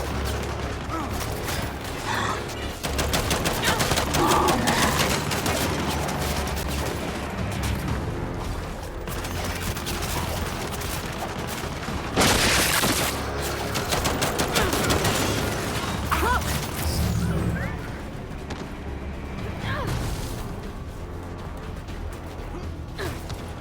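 Turrets fire in the Gears 5 shooter, a dense, continuous barrage of gunfire and mechanical clatter with a sharp explosive burst midway, while voices shout over the din.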